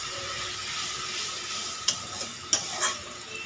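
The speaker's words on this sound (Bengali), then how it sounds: "দেখুন, মশলা থেকে ঝোলটা ফুটে গেছে।" Masala curry for a small-fish chorchori simmering in a pan after water has been added, a steady soft hiss and bubble with a few brief sharper pops near the end.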